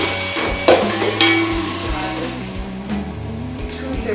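Onions with ground cumin and tomato paste fry in a pan while being stirred, giving a soft steady sizzle with occasional scraping knocks over a low hum.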